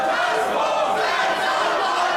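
A brief, loud burst of a divided wrestling crowd at Huxley's in Berlin backing El Phantasmo and Senza Volto, a steady roar of cheers and shouts with no pause.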